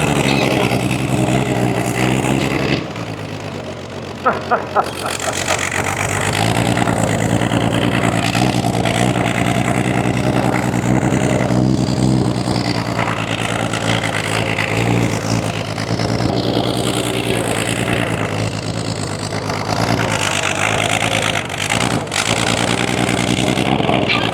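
A homemade skidder with a flat tire, engine running loud and close while dragging, a steady rough drone with surging revs and a brief dip near the start.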